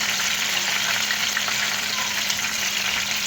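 Spinach-stuffed green chilli pakoras frying in oil over a low flame, a steady close hiss of bubbling oil with no talk.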